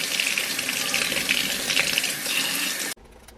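A mango being washed under a running kitchen tap, steady close splashing and gushing water for about three seconds before the flow cuts off abruptly, leaving a faint low hum.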